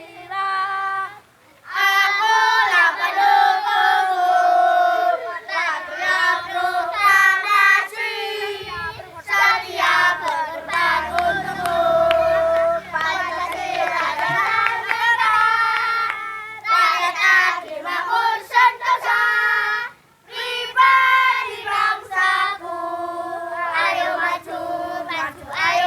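A group of children sings the Indonesian national song Garuda Pancasila together in unison, loud and close, in phrases with short breaths between them, ending abruptly near the end.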